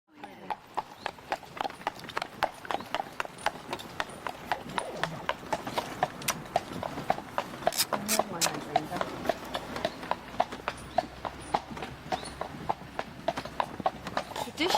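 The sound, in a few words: horse-drawn carriage, horse hooves clip-clopping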